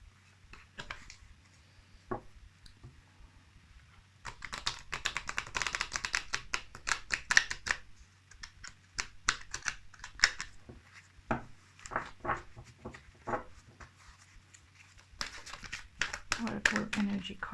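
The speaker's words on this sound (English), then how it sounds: "I will be pulling some cards from the Energy Oracle cards for you." Energy Oracle cards are shuffled and handled, making bursts of crisp papery riffling and soft slapping close by, with quiet gaps between the flurries.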